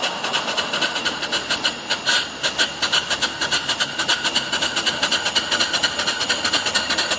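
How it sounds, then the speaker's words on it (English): A brass steam mill engine with flywheels and a flyball governor runs off a 20-inch boiler, chuffing in a quick, even rhythm of hissy exhaust beats, close and steady throughout with no talk. "And we'll turn on the steam."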